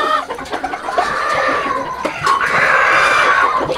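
Hens, two prized birds, clucking close by in a backyard flock, with continuous soft calls and squawks forming a steady, moderately loud texture throughout.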